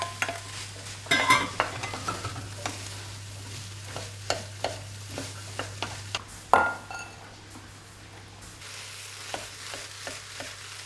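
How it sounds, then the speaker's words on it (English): Potatoes and carrots are stirred into onions frying in a pot for borscht. A soft sizzle runs under repeated scraping stirs and a few light clinks, over a low steady hum. "I'm going to throw potatoes and some of the carrots in."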